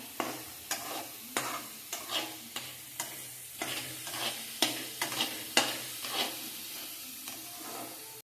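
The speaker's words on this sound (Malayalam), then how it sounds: "തക്കാളി ഒന്ന് മൂപ്പിക്കാം. അത് ഹൈ ഫ്ലെയിമിൽ ഇടാം." Tomatoes sautéing over a high flame for a spicy pasta sauce: a soft, constant sizzle punctuated by regular rhythmic stirring strokes roughly every half second, fairly quiet and without speech.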